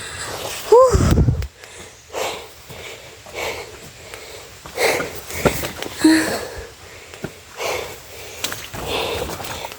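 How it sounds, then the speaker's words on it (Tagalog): A person breathes heavily and panting after farm work in a rural field, with loud gasping breaths, sniffs and exhalations repeating over several seconds, close to the microphone and mostly alone. "ako guys ay hinihingal na"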